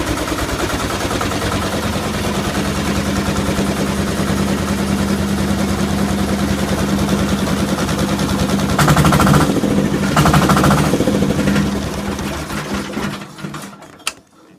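10hp diesel engine fitted to a John Deere 140 tractor runs close and loud with a rapid, steady chugging rhythm, surging in two bursts near the end before winding down and stopping.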